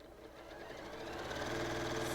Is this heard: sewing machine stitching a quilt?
yes